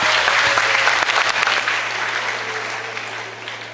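Audience applause at a youth empowerment seminar, a dense sustained clapping from a crowd that holds steady and then slowly tapers off, loud and close.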